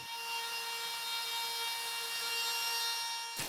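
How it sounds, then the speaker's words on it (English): A router trims the edges of a butcher block countertop with a steady, high-pitched whine and grinding rasp that holds for several seconds, then cuts off abruptly at the end. "take a router and clean up the edges where the track saw blade didn't quite go all the way through"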